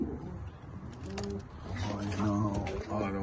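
Pet doves or pigeons cooing in an untidy aviary enclosure, soft repeated low coos layered close together, with some background chatter and rustling.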